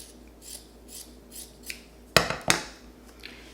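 Scissors cut craft material for a miniature gnome, giving two sharp close snips after soft rustling and handling noises in a quiet room.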